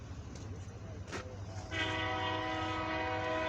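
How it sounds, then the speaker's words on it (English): An eastbound CFE-09 mixed freight and steel train passes the Jefferson Street railroad crossing at milepost 287.5. A low steady rumble builds, then a loud sustained horn blast cuts in partway through and holds to the end. "We got a CFE train coming."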